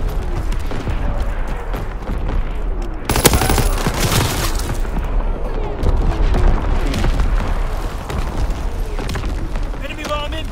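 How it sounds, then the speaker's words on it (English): Incoming enemy artillery in the Call of Duty WWII video game lands as a loud sudden blast, followed by rumbling explosions and rattling gunfire in a dense battle mix, with voices shouting over it. "Incoming enemy artillery! Get to cover!"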